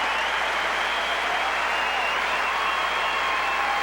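Crowd in Arthur Ashe Stadium at the US Open applauding after a tennis match, a dense continuous roll of clapping that holds steady from start to finish.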